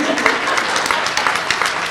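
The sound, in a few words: audience applause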